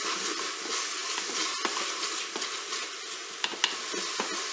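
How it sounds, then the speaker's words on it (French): Spaghetti forestière with parsley and chives being stirred in a Cookeo pressure cooker, a continuous bright sizzle with soft scraping and small clicks of the utensil, close and steady, with no voices. "Je vais ajouter le persil, la ciboulette. On va mélanger tout ça."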